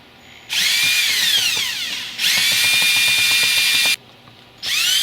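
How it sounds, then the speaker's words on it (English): Cordless power drill driving screws while mounting a BOMOO security camera bracket, two long whirring bursts with a short third one, separated by brief pauses, loud and close. "So if you have a power screwdriver or drill"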